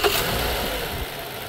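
A car engine cranks over during a battery cranking test with a KONNWEI KW870 tester, a steady mid-loud churning rumble lasting the whole short stretch with no talk.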